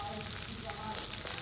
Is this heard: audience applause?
no